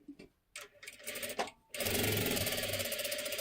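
Sewing machine running steadily while stitching a one-piece jacket, a fast even whirring hum that kicks in loudly after a few softer taps and short starts, close up with no talking.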